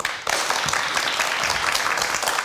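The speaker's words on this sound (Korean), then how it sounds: "박수로 맞아주시죠." A studio audience on a Korean television programme starts clapping abruptly to welcome a university president as a guest, and the dense applause holds steady and fairly close.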